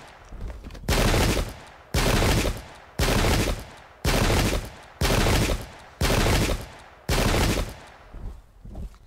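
Cannon fire in the battle game Pike and Shot comes as a regular series of seven loud, sustained booming bursts, each about a second long, separated by short quieter gaps of battlefield din.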